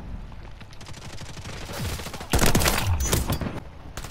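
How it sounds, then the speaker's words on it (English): Bursts of gunfire in a Call of Duty match with the M13C rifle, rapid overlapping shots that grow louder and denser halfway through, heavy impacts and echoing reports with no talk. "Where am I getting shot from?"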